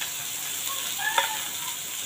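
A small chopped tomato hits hot oil already holding onion and curry leaves, setting off a brief bright sizzle and crackle with a short spike near the middle, close and alone.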